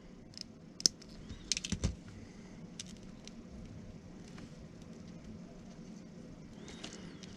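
Wire cutters snip the negative lead of an LED while wiring a homemade car underglow, producing a few sharp close clicks early on followed by quiet handling noise.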